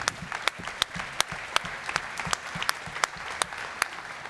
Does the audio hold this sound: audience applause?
yes